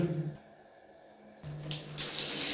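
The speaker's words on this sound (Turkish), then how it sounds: "Şu anda bütün peteklere su doluyor arkadaşlar" Water rushes into central heating radiators as a steady hiss, swelling louder partway through, with a low hum underneath.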